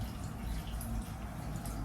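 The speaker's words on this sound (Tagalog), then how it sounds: "lagyan natin tubig mga kapatid" Water is poured into a cooking pot for pork sinigang, making a steady, close splashing rush with no voices.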